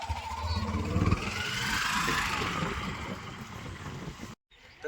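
Auto rickshaw engine pulling forward after being shifted out of reverse with the push-down button, a steady close motor drone that holds for about four seconds, then cuts off abruptly.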